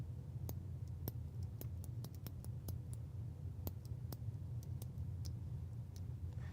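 Mechanical keyboard switches clicking in a rapid, irregular series of sharp ticks over a steady low background hum.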